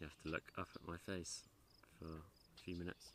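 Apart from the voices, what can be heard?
crickets chirping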